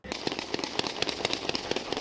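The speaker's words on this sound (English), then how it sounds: "she hears gunshots" A rapid series of sharp gunshots pops repeatedly in quick succession near a bar, somewhat distant and muffled, recorded on a body camera.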